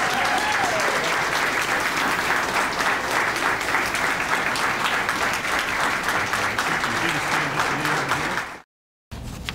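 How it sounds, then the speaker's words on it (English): Sustained applause from an audience at a police chief's award ceremony, a dense, even wash of clapping that carries on for several seconds before cutting off abruptly. "let's give her a round of applause, and I'm proud to present her a Chief's Award."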